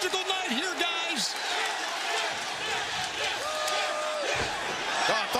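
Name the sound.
wrestling crowd in the arena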